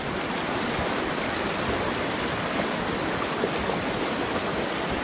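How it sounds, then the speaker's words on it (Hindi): A small river flowing over large stones in Tilos village, Battagram district, heard close and loud as a steady, full rushing wash with no pauses and no voices. "तो अभी हम लोग जी यहाँ से दरिया को क्रॉस कर रहे हैं। छोटा सा दरिया है"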